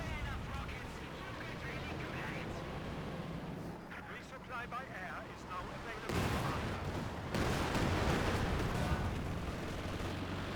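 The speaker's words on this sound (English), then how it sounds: "Panzerwerfer coming in now." Panzerwerfer rocket artillery barrage in the game Company of Heroes 2, a rumbling run of launches and booming impacts that grows louder toward the end, with someone talking over it.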